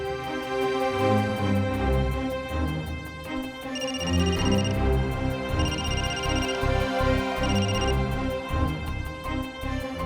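An electronic phone ringtone chimes in three repeated bursts over a steady musical background, moderately loud.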